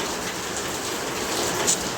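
Steady rain falls continuously on a home in rural Odisha, a dense even hiss that carries through the whole moment with no voices.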